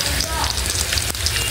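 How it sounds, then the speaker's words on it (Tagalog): Dried fish (bulad) fries in a pan with a dense, steady crackling hiss throughout, close and fairly loud, with one sharp tick near the end. "Ayan. Piniprito ko siya."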